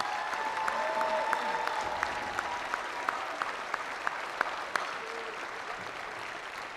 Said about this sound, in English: You can give them a round of applause right now.